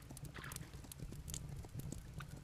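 Hooves of a horse mount clip-clop in the video game Kingdom Two Crowns, a steady trotting patter of quick, light taps that runs throughout at moderate loudness over a soft background bed.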